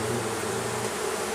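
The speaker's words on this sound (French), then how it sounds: "abeilles bien sûr dans le fond de la ruchette" Honey bees buzzing inside a nucleus hive, a close, continuous droning hum that holds steady and fairly loud throughout, with no talk.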